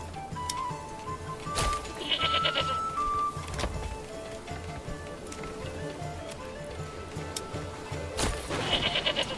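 Goats bleat in the medieval city-building game Manor Lords, several short calls rising over a busy game ambience with faint clip-clop of hooves, the bleats spaced out near the start and again near the end.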